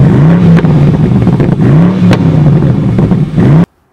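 A BMW M850i Convertible's exhaust revs hard through several rising and falling cycles, loud and close, then cuts off abruptly.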